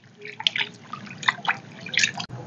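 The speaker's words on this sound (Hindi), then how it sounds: "चिकन को हम अच्छे तरीके से धो लेंगे।" Raw chicken being washed in water for a namkeen chicken karahi, with irregular splashes and drips near and fairly loud, coming in several short bursts over a low background hum, no talking.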